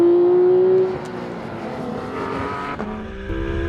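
A sports car on a wet track at full throttle, a loud engine note dropping as it shifts and then holding a steady drone along the lap, heard close from onboard with no talking.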